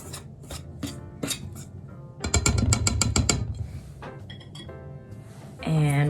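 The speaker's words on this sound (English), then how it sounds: "I'm just gonna whisk that together so it's evenly incorporated" Flour, baking powder and salt whisked together in a bowl for vanilla cupcakes: quick, bright metallic clinks and scraping in bursts, with a denser rapid stretch in the middle and a voice briefly at the end.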